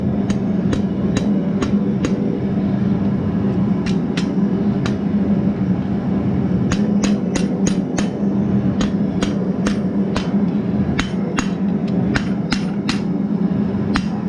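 A blacksmith hammers a hot steel finial on an anvil, sharp ringing strikes landing in quick rhythmic bursts with brief pauses, loud and close over a steady low roar of a forge or blower.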